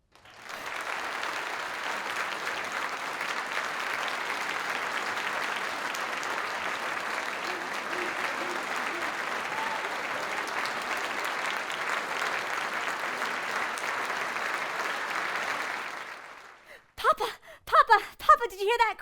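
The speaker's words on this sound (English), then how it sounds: "did you hear that crowd, Papa? They loved me." A theatre audience applauds in a long, even wash of clapping that holds for about fifteen seconds before fading, and a voice speaks briefly once it dies away.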